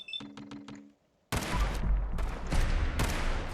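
Plasma rifle fire in Fallout 4 survival mode: a few short electronic tone pulses are followed, after a brief silence, by a loud sudden volley of repeated crackling shots that keeps going close up.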